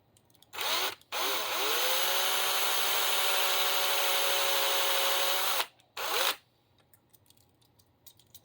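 A power drill whirs during a Hot Wheels wheel swap on a Fast and Furious premium BMW model car, with a short burst, a long steady high whine of about four seconds, then another short burst and light clicks.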